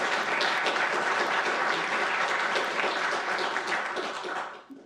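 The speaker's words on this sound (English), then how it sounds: "Let's give her a round of applause." Audience applause at a city's State of the City presentation, sustained and even clapping from a sizable crowd that holds steady, then tapers off and fades near the end.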